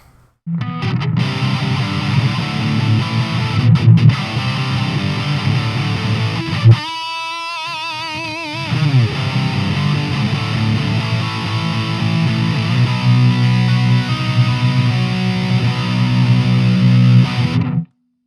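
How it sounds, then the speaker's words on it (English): Heavily distorted electric guitar plays chugging, high-gain metal riffs through a Fender Champion 20 amp on its metal setting, briefly dropping to a wavering sustained note midway before the crunching resumes. "go to the Fender Champion 20 on a metal setting, higher gain"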